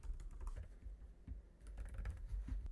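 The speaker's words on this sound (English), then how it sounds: "I'm going to type in 2 spices" Close, quiet typing on a computer keyboard: a quick run of soft key clicks in an uneven rhythm, with no talking.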